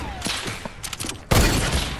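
Gunfire in a sniper shootout video game: a loud, sharp burst of shots strikes midway and rings on after lighter clicks and faint noises.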